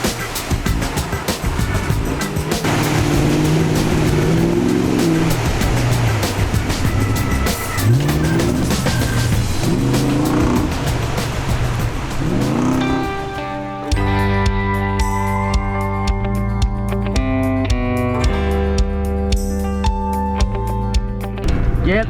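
A 4WD drives in low range through muddy puddles on a lake edge, its engine roaring and revving loudly with splashing and sloshing, then music takes over in the second half.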